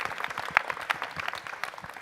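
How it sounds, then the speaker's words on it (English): Audience at a youth town hall human rights award event claps in a brief, moderately distant burst of applause with no speech over it. "Let's give them a round of applause."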